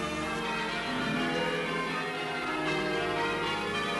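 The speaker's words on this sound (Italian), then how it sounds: "quando le campane suonavano a distesa" Church bells peal continuously in a dense, overlapping wash of ringing tones, steady and fairly loud, with no voices.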